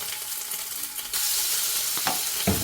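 Crushed ginger and garlic hit hot oil in a kadai for a stuffed chicken masala, bursting into a loud, dense sizzle that holds steady, with a couple of brief stirring scrapes near the end and no voices.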